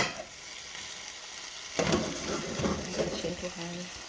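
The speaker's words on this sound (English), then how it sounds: "let's mix the quail around." Quail stir-frying in a hot pan for a spicy Cambodian dish, a steady sizzle that swells as the meat is tossed and stirred partway through.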